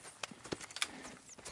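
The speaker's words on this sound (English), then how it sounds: "I've been meaning to offload this big Shire horse for a while now" Hooves of a big Shire horse in Red Dead Redemption 2 clip-clop faintly in an uneven walking rhythm, a handful of soft distant thuds.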